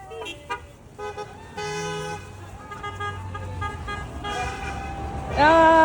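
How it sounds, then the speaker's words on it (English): Car horns honk repeatedly in a school teacher-appreciation drive-by, with long and short toots from several vehicles, the loudest blast at the end, while people nearby cheer and talk. "Honk if you love your teacher!"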